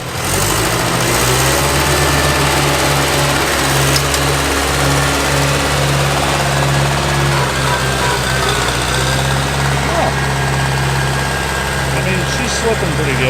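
Old abandoned tractor engine running steadily under load while pulling a cultivator to till a field, a loud continuous low drone with a rough, knocking rumble throughout.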